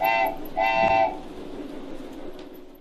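A passing train sounds two loud horn blasts, one short and one longer, then the rumble of rolling railcars fades steadily into the distance.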